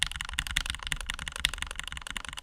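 A keyboard fitted with lubed Gateron North Pole switches is typed on rapidly, giving a close, even run of soft clacking keystrokes.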